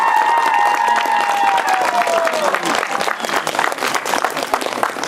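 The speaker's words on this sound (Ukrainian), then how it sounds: "Аплодуємо ще раз місту Харкову нашому." Audience applauding and cheering at an evening celebration of Kharkiv city day, a dense, steady wall of clapping with a sustained whistle-like tone sliding down over the first few seconds.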